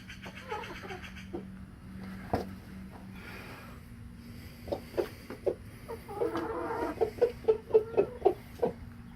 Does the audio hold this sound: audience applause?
no